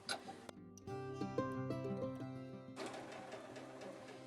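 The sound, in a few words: sewing machine stitching a pillow envelope closure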